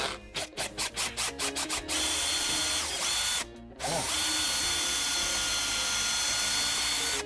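A power drill grinds steadily into a rubbery lacrosse ball, with a stuttering start, a brief pause, then a long continuous loud whir.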